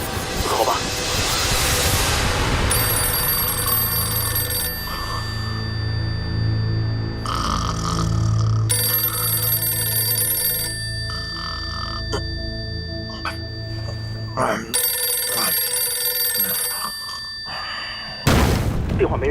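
An old wartime field telephone rings unanswered in repeated bursts, its bell tone sounding in rhythmic pulses with short gaps, fairly loud in a drama scene with low rumbling underneath.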